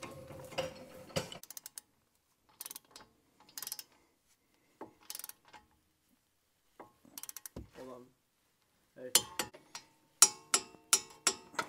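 A torque wrench makes ratcheting clicks as it tightens the wheel lug nuts on a 2015–2020 Subaru Outback. The clicks come in short, close bursts with pauses between them, and a quick run of sharp clicks comes at the end.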